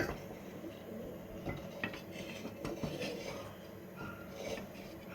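A spoon scrapes and clinks against a pan while a sesame-oil mixture for okra fry is stirred, with irregular close metallic knocks and rubbing and no talk.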